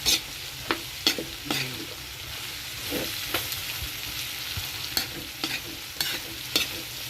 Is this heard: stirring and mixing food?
yes